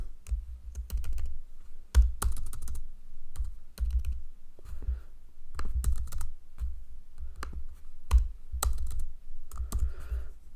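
Fingers type on a computer keyboard in uneven bursts of crisp clicking keystrokes, with short pauses between runs, close up and quiet, with no voices.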